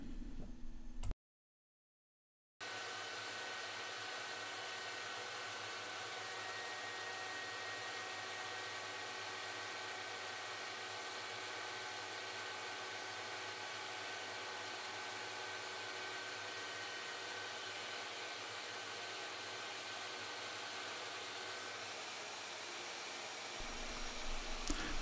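A Shaper Origin handheld CNC router with a 6 mm cutter mills a tenon in several passes, giving a steady loud whirring roar. It starts after a brief silence and runs unbroken for about twenty seconds before stopping.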